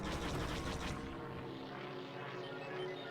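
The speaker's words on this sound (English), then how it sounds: "These ships here are kind of like a VTOL system, so if you start it up, if I hold shift, it goes straight up" A VTOL-style ship in a video game lifting off, its engine a loud continuous roar with rotor-like buzzing that thins after about a second into a steady hum.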